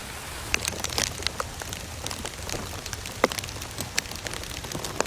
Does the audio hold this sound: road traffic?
no